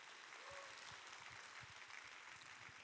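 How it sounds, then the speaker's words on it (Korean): A church congregation at a Sunday afternoon worship service breaks into steady applause, a dense, even patter of many hands heard from some distance in a large room. "박수 한번 해주시고"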